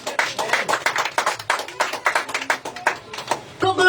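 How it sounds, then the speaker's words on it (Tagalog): A church congregation at a Sunday worship service in General Trias, Cavite claps in quick, uneven bursts for about four seconds, close and lively, with voices mixed in near the end. "Palakpak para kay Lord."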